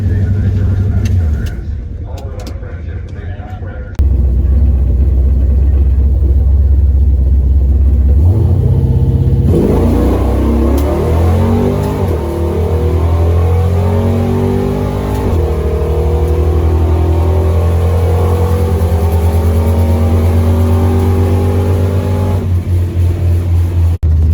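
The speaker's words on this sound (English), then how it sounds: "So let's warm the car up for a second here" A powerful drag race car engine warming up at a dragway idles with a deep rumble, then revs up and holds a loud, throaty roar close by for a long stretch.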